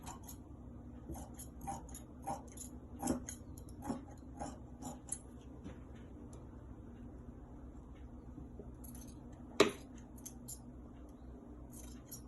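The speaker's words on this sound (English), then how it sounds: "I'll cut across the red line. I'll cut the first 2 layers." Scissors cutting through two layers of fabric while making wide-leg pants, a few crisp snips spaced irregularly and close by, with one sharper snip near the end over a quiet background.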